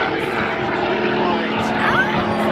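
A racing aircraft with an Allison engine drones loudly at the 2011 Reno Air Races, a steady propeller roar filling the whole stretch, with faint voices underneath.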